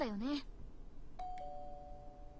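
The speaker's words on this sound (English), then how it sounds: "Oh boy, doorbell!" A doorbell rings in the Amnesia: Memories video game, a clean two-tone chime ringing out clearly after a short stretch of sung voice, with its tone sustaining to the end.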